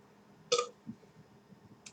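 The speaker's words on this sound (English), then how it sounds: "except for that last burp" A single short, quiet burp from a man drinking a Great Lakes Brewery Crazy Canuck IPA, a brief throaty burst followed by faint low rumbles and near silence.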